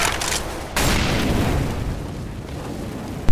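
An incendiary grenade thrown in CS:GO, a short pop followed by a loud, sustained roaring burn of flames that stays steady and close for a few seconds.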